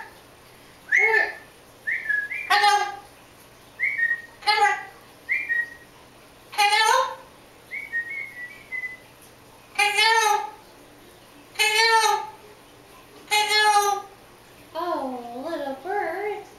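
A pet parrot whistling indoors, a series of separate loud, close whistled phrases with rising and falling pitch, spaced by short pauses and ending in a warbling run.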